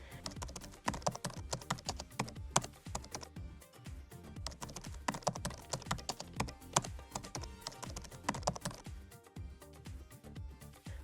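Rapid, steady keyboard typing on a computer keyboard while entering an indicator name into a search box, dense clicking keystrokes running continuously throughout with no speech.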